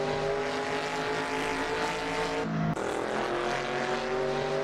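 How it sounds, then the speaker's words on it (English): Exhaust roar of a Shelby Daytona on a lap of the Isle of Man TT course. It is a loud, sustained engine drone with steady tones and one brief dip midway, with no voices. "You really just get that exhaust sound blasting you."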